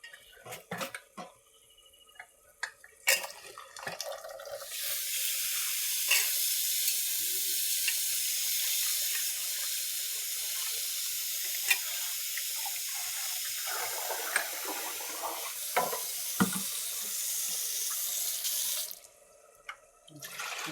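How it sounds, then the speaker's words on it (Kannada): Rice is rinsed under a running kitchen tap for about fifteen seconds: a steady close gush of water with scattered clinks and stirring of grains, bracketed by brief handling noises. "ಇವಾಗ ಅಕ್ಕಿ ತೊಳೆದು ಹಾಕೋಣ."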